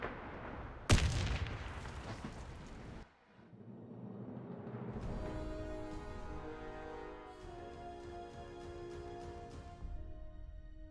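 A grenade blast in the video game Warface, one sudden loud boom with a rumbling tail, followed by a lull and then swelling game music.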